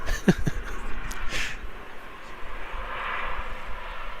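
Airplanes fly overhead near a ballpark during a Galaxy vs Royals game, with a broad engine drone that swells and fades. Brief speech-like sounds come through at the start.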